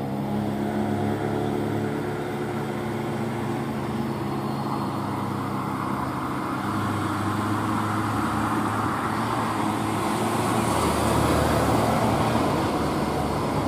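A heavily loaded Hino wingbox truck climbs the steep Batununggul grade, its engine droning loud and steady throughout with a rising roar toward the end and no talk over it.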